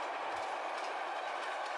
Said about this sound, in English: Through the countryside chugs the powerful freight train